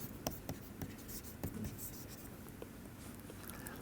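Chalk or marker scratches across a board during a physics lecture, faint, rhythmic strokes and taps in a quiet room.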